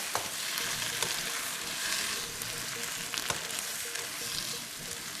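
Spice pods and wilting pak choy fry in a hot pan while being stirred, producing a steady, fairly loud sizzle broken by a few sharp clicks of the utensil against the pan.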